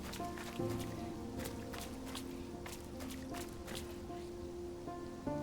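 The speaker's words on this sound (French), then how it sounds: "les petits bruits de pas qui patauchent dans le sable mouillé" Soft, squelchy footsteps splash through wet ground over a steady bed of ambient music and faint background sound.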